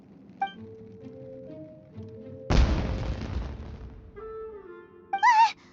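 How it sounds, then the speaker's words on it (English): A firework explosion in the video game Genshin Impact, one sudden loud boom that decays into a crackling rumble over about a second and a half, set among soft game music tones and chimes. "Was that an explosion? It sounded like fireworks."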